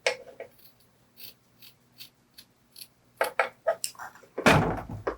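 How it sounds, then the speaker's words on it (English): Sharp scissor snips come in short, irregular bursts, trimming fabric about a quarter inch from the stitching on a bralette, closing with a louder rustling rasp of material near the end; no voices. "I'm going to use my scissors and just carefully cut about 1/4 of an inch away from the stitching"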